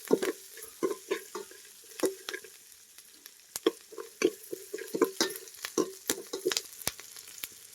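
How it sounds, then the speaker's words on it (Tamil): Onions with green chillies being stirred and sautéed in a pan until brown, a soft steady sizzle broken by repeated scraping stirs of a spoon, fairly quiet and close. "நல்லா வெங்காயம் ப்ரௌன் கலராக வதங்குற வரைக்கும் இதை கிண்டிக்கிட்டே இருங்க"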